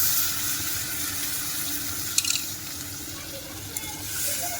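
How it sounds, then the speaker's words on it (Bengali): A bowl of water poured into hot oil while cooking chicken-stuffed potol dolma, giving a continuous hissing sizzle with a couple of sharp splashy spikes and clinks partway through, no voices. "এবারে দেখুন আমি এক বাটি জল দেবো বেশি জল দেবো না এক বাটি জল দেবো"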